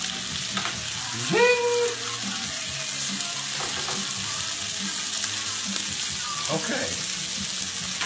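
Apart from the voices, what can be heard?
steaks sizzling while frying in a pan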